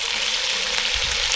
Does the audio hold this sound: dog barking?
no